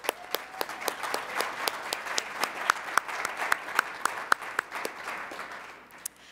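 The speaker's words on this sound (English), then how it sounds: "let's give them another round of applause" Applause from a school event audience, fairly quiet and spread out, with a few individual sharp claps popping out clearly above the softer crowd clapping as it gradually tapers.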